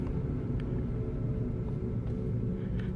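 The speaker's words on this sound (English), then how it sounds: "And you can hear the regen braking too." A 2012 Mitsubishi i-MiEV electric car slowing under regenerative braking, heard from inside as a steady low rumble and road drone with a faint whine, no talking.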